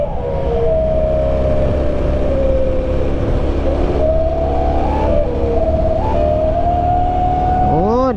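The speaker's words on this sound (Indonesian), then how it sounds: "Bersiul mobil ini." A car on a steep, winding mountain road gives a sustained whistling whine that rises and falls over steady engine and road roar, with a sweeping siren-like tone at the end.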